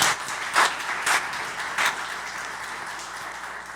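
Church congregation breaking into applause during a sermon, with a few short bursts of clapping rising and fading against a steady background murmur.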